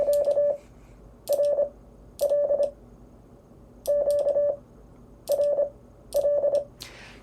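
Morse code QRL sent as a steady tone in short bursts of dits and dahs, six groups separated by pauses, clear and alone with a faint background hiss.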